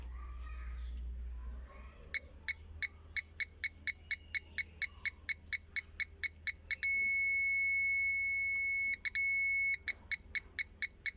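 A series of short electronic beeps from a parking sensor on a Fiat Albea repeats at a steady pace, briefly merging into a continuous tone, then resumes intermittent beeping over a low hum.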